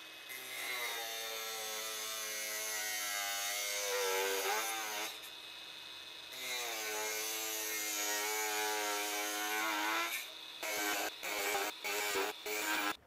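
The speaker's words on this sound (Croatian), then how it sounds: "mašina za sečenje podešena u 6. brzinu, znači maksimalan broj obrtaja" A Bosch GWS 18V-11 cordless angle grinder on an 8 Ah battery runs at its top speed setting with a loud, close, high whine. It dips briefly mid-run, then ends in several short on-off bursts.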